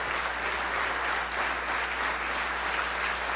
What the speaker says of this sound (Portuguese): dê uma poderosa salva de palmas para Jesus